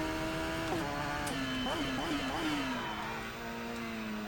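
In Assetto Corsa, a Radical race car engine drones and revs at Bushy Park, Barbados, with the pitch rising and falling through gear changes. It stays steady and moderately loud, with faint talk underneath.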